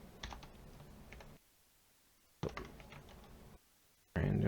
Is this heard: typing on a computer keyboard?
yes